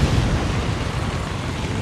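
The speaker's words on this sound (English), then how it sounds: "Detonating charges." Detonating charges going off in the video game XCOM 2, a loud, dense rumbling blast that fills the whole short stretch with steady low roar and no break.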